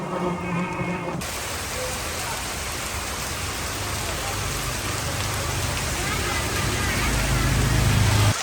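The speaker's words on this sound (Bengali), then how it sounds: "বৃষ্টি আবার অনেক জোরে আসছে" Heavy rain pours steadily on a village road and market area after a night of rain, a dense even hiss that swells louder toward the end; a brief murmur of voices opens it.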